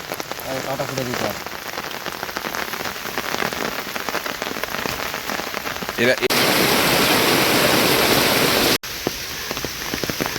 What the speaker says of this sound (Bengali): ধামাকা বৃষ্টি, এই বছরের সেরা বৃষ্টি হইল গতকাল রাত থেকে এখন অবধি পর্যন্ত।